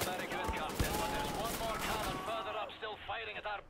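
Rapid machine gun fire from a mounted gun in the shooter Wolfenstein: The New Order, dense and continuous with sharp bursts, running under steady talk throughout.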